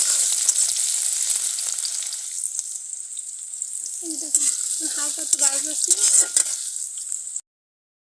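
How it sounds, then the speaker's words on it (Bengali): Onion and garlic fry in a pan for polui greens, a steady close sizzle throughout with brief stirring scrapes, a short spoken remark over the cooking, and the frying cutting out near the end. "আমার পেঁয়াজ ভাজা হয়ে গেছে"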